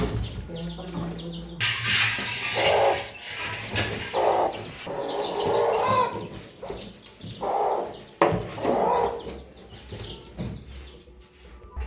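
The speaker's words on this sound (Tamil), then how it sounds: "வான்கோழி வந்து விட்டது" A turkey gobbling and clucking in short bursts at close range on a farm, with outdoor background noise between calls.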